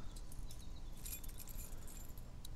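Keys jangle in The Walking Dead game, a faint metallic rattle that flares around the middle, over a low steady rumble.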